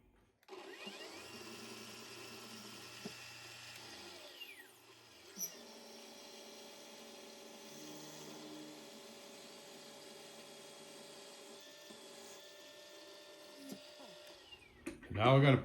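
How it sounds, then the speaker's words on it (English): A steady mechanical whir of a lathe running as a metal hit-and-miss engine ignition part is center drilled, constant and moderately loud, ending with a brief louder scrape. "Now we'll center drill that and then drill the big hole."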